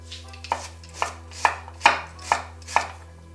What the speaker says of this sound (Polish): Do ostrości dodaję chili, którą siekam.